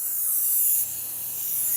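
Rust-Oleum white universal bonding primer spraying from an aerosol can onto a shed, a loud, steady close hiss that holds for the whole stretch, with no voices.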